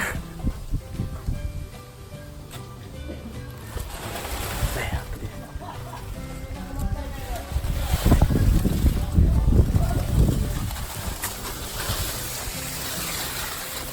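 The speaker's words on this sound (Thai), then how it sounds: "ลมมันแรง" Strong, gusty wind rumbles and buffets the microphone near an elephant, swelling louder toward the middle, with faint voices underneath.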